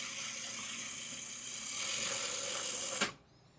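A sewing machine runs a quarter-inch seam on a quilt string block with a steady close mechanical whir for about three seconds, then stops abruptly into near quiet.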